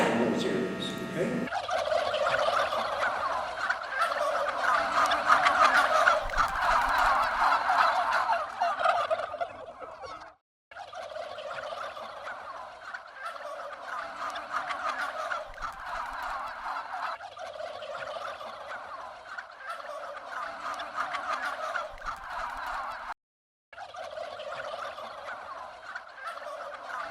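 Male wild turkey gobbling in a dense, continuous chorus of rattling gobbles that runs for almost the whole stretch, close and loud, with only two brief breaks and no other sound.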